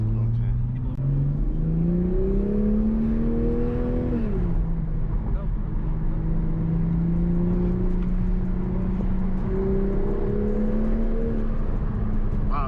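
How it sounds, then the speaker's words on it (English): A 2021 Toyota Supra 3.0 engine revving through downshifts, pitch climbing then dropping sharply, followed by a steady cruising drone heard from inside the cabin, with occasional talk over it. "Downshifts are really nice."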